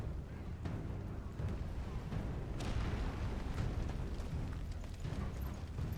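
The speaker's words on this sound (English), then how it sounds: "We destroyed the catapult." Catapult being destroyed in the video game Final Fantasy XVI, a rumbling, continuous low roar of blasts and crumbling debris with a few sharper cracks, loud and dense throughout.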